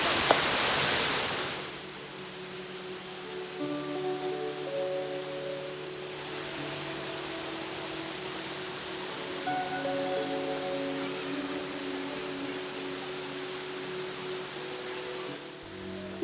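A steady, broad rush of a rain-fed waterfall at Waghoba Ghat, Palghar, fills the whole clip without pause, with faint tonal sounds drifting above it and no one speaking.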